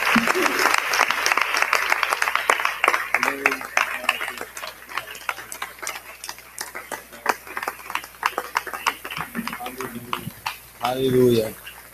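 A church congregation claps at the close of a service, a dense burst of applause that thins into scattered claps while voices talk over it.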